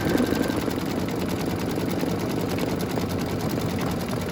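An embroidery machine stitching a dress boutique scene hanger design, running at a steady, fast mechanical whir with a rapid needle rhythm throughout, close and moderately loud, without talk.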